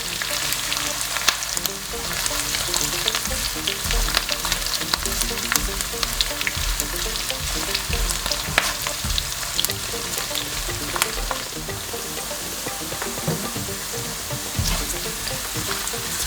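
Onions frying in oil until translucent with a little salt and sugar, a steady close sizzle with sharp crackling pops and frequent spatter throughout, no voices.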